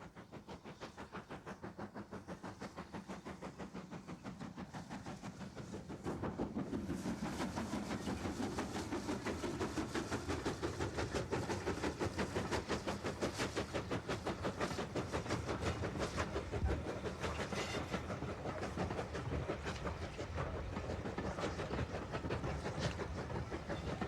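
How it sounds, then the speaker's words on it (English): Great Western-liveried steam locomotive 5619 hauls green Southern Region-style coaches on the Isle of Purbeck railway. It is heard at a distance as a soft, rapid, rhythmic chuffing and clatter that grows louder after a few seconds and keeps going steadily. "Great Western liveried 5619 is seen on the Isle of Purbeck's railway with green Southern Region-style coaches"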